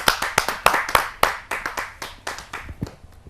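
An audience at a Hindi poetry gathering (kavi sammelan) claps to welcome a woman poet: a burst of close, dense hand claps that gradually thins out and fades over a few seconds.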